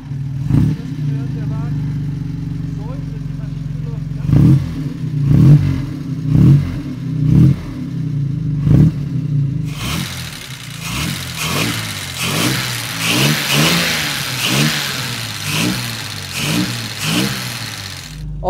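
A restored 1956 Jaguar XK 140 drop head coupé engine: a low idle with several rhythmic blips, then it fires up fully and revs repeatedly in strong bursts, loud and close, with some talk over it.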